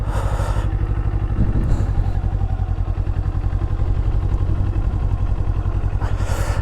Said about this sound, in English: I'm going to try to do a sharp U-turn and do a little stall.